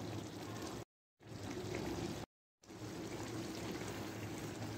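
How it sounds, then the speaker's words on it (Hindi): Water pours steadily into a pot of cooking black chickpeas, a continuous splashing hiss broken by two brief silences. "ये देखें, मैं यहाँ पर 1/2 गिलास पानी शामिल करूँगी।"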